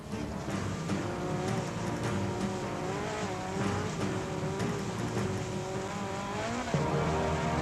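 Off-road race trucks leave the start line of the 2009 Parker 425 desert race, engines roaring together in a dense, steady drone, revving and shifting as several pull away at once, loud and close.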